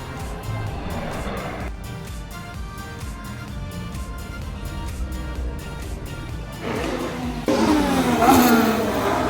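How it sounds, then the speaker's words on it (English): Formula 1 cars on track during qualifying at the Miami Grand Prix, a continuous high-pitched engine whine that rises and swells as a car passes closer near the end. "As you can probably hear, qualifying is going on right now after the sprint race."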